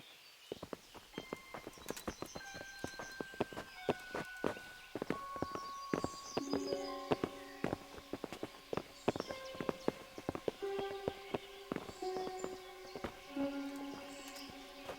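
Horses walking at a steady pace, hooves clip-clopping in a loose uneven rhythm, close and fairly clear, with bright tonal music playing over them throughout.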